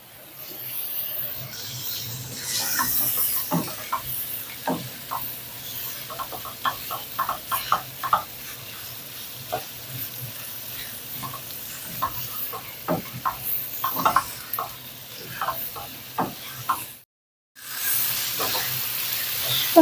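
Pieces of veal browning in a hot pan, a steady soft sizzle broken by scraping and stirring, close and alone, with a brief silent gap near the end.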